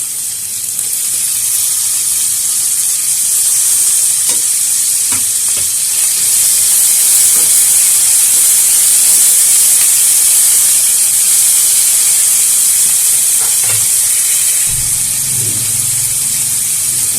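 Tomatoes added to a hot pan while making Indian veg pasta, giving a loud, steady sizzling hiss that lasts throughout, with faint stirring clicks and a low rumble near the end.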